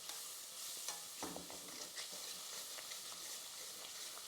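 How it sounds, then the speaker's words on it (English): Black pepper and kasuri methi get stirred into a sizzling pan of spiced oil, a soft steady fry hiss broken by faint scraping stirs and light clinks of the utensil. "the black pepper, and the kasuri methi. Give that a stir."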